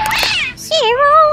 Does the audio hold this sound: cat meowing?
yes